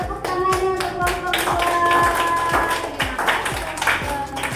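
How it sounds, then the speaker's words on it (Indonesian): Schoolchildren in a classroom give a group a round of rhythmic clapping in quick, steady beats, with ringing tonal sounds mixed in under the claps. "Oke, tepuk tangannya untuk kelompok"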